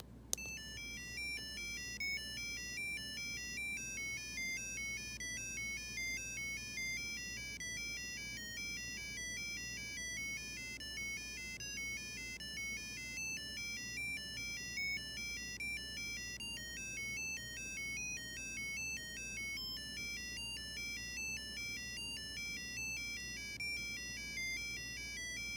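Electronic beeping tones from a microcontroller project play a melody from The Legend of Zelda, a steady stream of quick square-wave notes with no talk over them.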